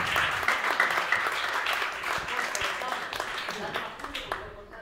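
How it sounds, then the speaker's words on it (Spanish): A crowd applauds with irregular clapping that swells and thins, moderately loud, with voices and cheering mixed in under the clapping as it gradually tapers off. "Aplausos, por favor."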